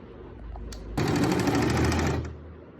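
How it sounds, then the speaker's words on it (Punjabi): A sewing machine stitches a salwar hem, with one short rattling burst of rapid needle strokes, loud and close, running steadily for about a second before stopping. "ਦੇਖੋ ਆਪਾਂ ਇੱਥੋਂ ਸ਼ੁਰੂ ਕਰਨੀ ਆ ਸਲਾਈ ਲਾਉਣੀ ਹੁਣ ਆਪਾਂ ਇੱਧਰ ਨੂੰ ਲੈ ਕੇ ਆਉਣੀ ਆ"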